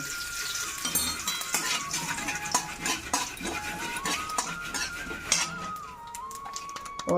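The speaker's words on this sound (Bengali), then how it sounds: "অল্প কালো সর্ষা দিয়ে আমি হালকা আঁচে ভেজে নিব সাদা তেল" Black mustard seeds and cumin sizzle in white oil over low heat, a steady close crackle with a spoon scraping and clinking against the pan throughout, no voices.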